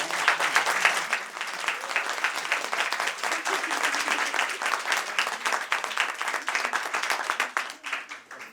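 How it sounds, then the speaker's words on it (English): An audience at a panel discussion gives the panelists a warm round of applause, many hands clapping steadily and fairly evenly for several seconds before tapering slightly. "Please give our panelists a warm round of applause."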